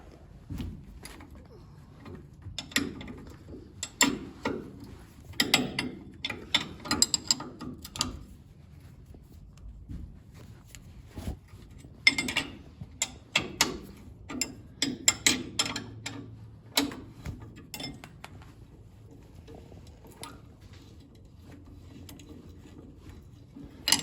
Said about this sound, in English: A little hard to get an impact gun on those. You might have to use wrenches.